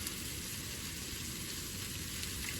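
Potatoes sizzling in a skillet with cumin and smoked paprika, a steady, even hiss of frying that carries on without a break and without any voices.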